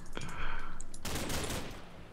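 Gunshots in modded Minecraft: a single sharp report followed by a longer dense burst of rapid fire, close and loud with a noisy tail.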